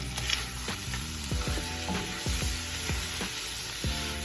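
Red beans and rice stirred in a pot with a spoon, heard as close, steady scraping strokes about twice a second over a soft sizzle.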